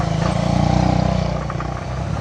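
A Bajaj Avenger cruiser motorcycle exhaust on an uphill road in Lebong, a deep steady thumping idle-to-low-throttle rumble with a regular pulsing beat, loud and close, easing slightly toward the end.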